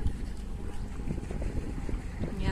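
An RC model Apache boat running on the Rhine river, a steady low motor drone mixed with water splashing and gusty wind noise on the microphone, fairly close and continuous.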